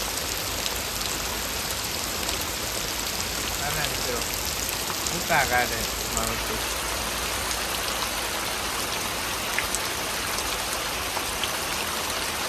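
Heavy unseasonal rain pours down in a village, a dense, loud, continuous hiss of downpour close by, with a voice talking briefly underneath.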